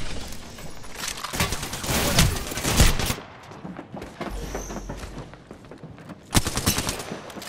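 Gunfire in the video game Apex Legends, with several loud bursts and rapid volleys near the start, a quieter stretch in the middle, then a sharp renewed burst toward the end.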